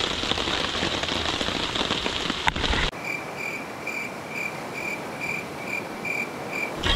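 Light drizzle pattering steadily at a campsite, a dense soft hiss that thins abruptly partway, leaving rhythmic insect chirps pulsing over the quieter rain.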